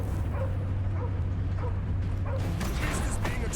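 Cosmo, the dog in the Guardians of the Galaxy video game, gives a few short barks and yips over a steady low hum and game sounds, with no speech.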